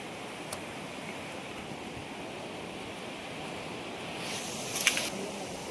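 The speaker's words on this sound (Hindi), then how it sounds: "ये देखिए पानी का बहाव," A rushing mountain river on the Manimahesh pilgrimage route, past washed-out roads and a bridge, makes a steady, even roar of flowing water, moderately quiet and continuous throughout, with no talk.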